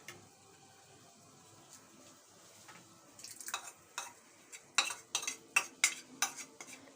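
Chicken with salt and spices being stirred in a bowl, faint soft scraping at first, then a run of sharp clinking utensil strokes in quick rhythm toward the end, close and fairly quiet.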